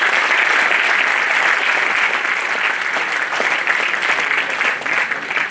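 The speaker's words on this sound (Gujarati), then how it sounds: "તાળીઓથી વધાવીએ આપણે બધાને" A roomful of chamber members and guests give dense, sustained applause at the end of a lecture. The clapping is loud and even, filling the whole stretch and thinning slightly near the end.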